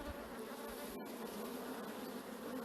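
Honey bees buzz steadily at an open hive during an early-spring inspection, a close, dense hum that fills the whole stretch without pause.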